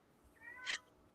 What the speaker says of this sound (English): You may hear some unhinged meowing in the background.